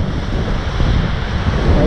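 Sea waves crash and surge in strong wind near Hassan Mosque and the marina, a loud continuous roar of surf and wind buffeting the microphone.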